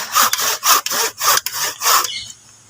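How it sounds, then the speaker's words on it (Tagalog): A hand saw cuts through a tree branch during grafting and marcotting work, giving five or six loud rasping strokes in a steady back-and-forth rhythm up close before stopping. "Lagariin na natin."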